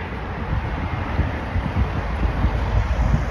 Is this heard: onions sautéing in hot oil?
no